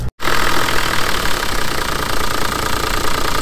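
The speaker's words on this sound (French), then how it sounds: "nous on va regarder le moteur." A vehicle engine idles steadily with a rough, slightly knocking mid-pitched rumble, close and loud, after a brief silent gap at the start.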